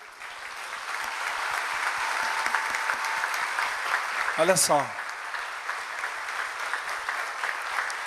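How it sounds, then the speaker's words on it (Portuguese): Church congregation applauding during a worship service, steady broad clapping from a crowd filling the room throughout, with a brief voice calling out over it midway. "Vamos aplaudir o Senhor Jesus?"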